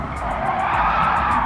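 Race cars lapping hard in Gran Turismo 7 at Monza, a continuous loud engine drone with tire squeal, close and steady throughout with no talk.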